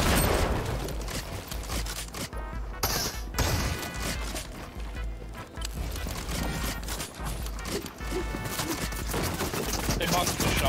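Shotgun blasts in the video game Fortnite amid busy close-range combat, with sharp, loud reports and clattering impacts packed densely over a chaotic gameplay soundscape.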